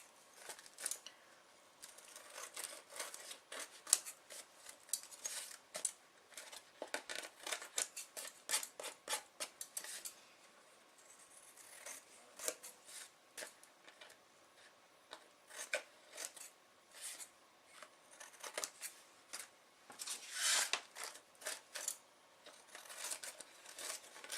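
Scissors trim paper for a vintage journal, with steady close snipping and rustling cuts repeating at an irregular pace, soft and intimate throughout, with brief pauses between runs of cutting.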